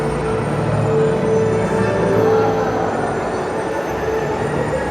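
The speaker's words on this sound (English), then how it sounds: "train's actually about to take off" A train beginning to pull away: a loud, steady rumble of rolling wheels and rail noise, with faint squeals and a brief tonal whine, close by and continuous, no talking.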